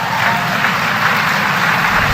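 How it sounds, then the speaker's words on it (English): Audience applause during a recorded speech, a dense, steady wash of clapping from a large crowd that holds at an even, loud level throughout. "They applauded for that."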